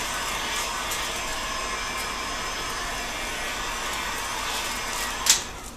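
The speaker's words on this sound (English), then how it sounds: "I go and put that centered on the heat gun" A heat gun blows hot air over a PVC pipe being softened to bend into a bow, a steady close whooshing fan drone holding level throughout, with a brief sharp click near the end.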